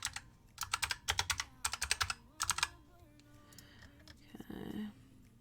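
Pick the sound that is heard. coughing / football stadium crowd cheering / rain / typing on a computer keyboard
typing on a computer keyboard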